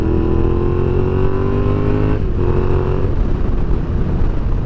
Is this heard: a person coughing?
no